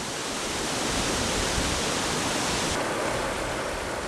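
Steady, dense rush of falling water from Angel Falls in Venezuela, loud and close, with no break in the roar from start to finish.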